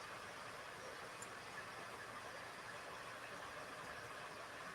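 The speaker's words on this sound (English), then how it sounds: "So this here is just an exhaust fan." Steady, even blowing of an exhaust fan on a farm where itch sticks are made, a constant broadband whoosh that holds unchanged throughout, fairly faint and with no voices.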